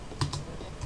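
Keys on a computer keyboard are tapped a couple of times in quick, faint clicks while a network reset command is typed.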